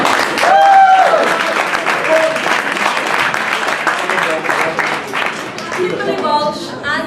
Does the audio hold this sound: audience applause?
yes